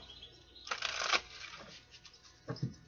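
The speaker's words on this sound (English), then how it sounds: "One more shuffle." Tarot cards are shuffled in a couple of quick riffling bursts, a crisp flurry of flicking card edges followed by a shorter second riffle, close and soft in a quiet room.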